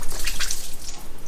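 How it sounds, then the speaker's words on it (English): Leftover water drips from a removed radiator hose on a Chevy Nova during a cam and heads install. A few small, close drips and trickles fall over a steady background hiss in a short burst. "It looks like still some water is going to come out of it."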